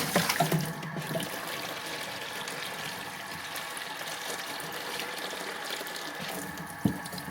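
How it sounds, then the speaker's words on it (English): Water runs steadily from a tap into a container, a continuous trickling fill with a brief clatter at the start and a small knock near the end. "I also have a container just to fill up with water to make the process go a little bit easier. I'm going to fill this up here."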